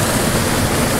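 A waterfall on the Appalachian Trail roars close and loud, a dense unbroken rush of falling water filling the whole moment.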